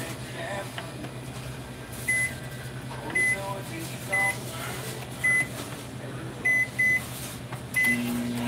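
A household microwave oven hums steadily indoors while a series of short, sharp beeps sounds at irregular intervals, about seven in all, with a faint voice in the background.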